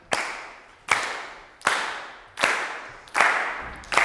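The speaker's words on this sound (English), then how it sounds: "Can we all just like clap together?" A group in a percussion masterclass claps together in unison on a steady beat, six sharp, ringing claps spaced evenly about three-quarters of a second apart, each trailing off in room reverberation.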